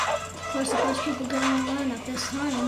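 Dogs yip and bark faintly beneath someone talking, with whimpering sounds mixed in alongside the speech, from Minecraft on Xbox 360.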